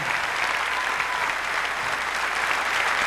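An audience at a live concert in Lima claps hard, dense and continuous applause filling the hall at a steady level with no voices.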